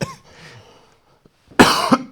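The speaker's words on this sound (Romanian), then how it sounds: "Îmi vine să tușesc." A single loud, harsh cough bursts out close to the microphone in a quiet podcast interview room, after a few seconds of near silence and faint breathing.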